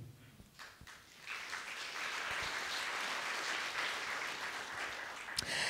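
An audience applauds at an evening conference talk on generative AI, the clapping swelling after a quieter start into a steady, full round that carries through to the end.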